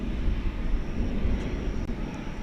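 Steady, loud low jet roar from a Singapore Airlines Cargo Boeing 747-400 passing at night near a DFW Airport runway, broadband rumble holding throughout with no talk.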